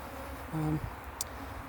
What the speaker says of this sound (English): They're hovering in front of the hive and kind of doing figure of eights, flying in a figure of eight